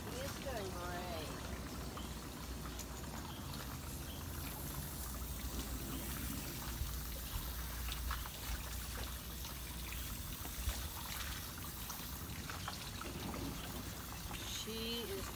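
Water pours steadily from a garden hose while an animal is being bathed, a continuous splashing hiss with trickles and drips, as people talk nearby.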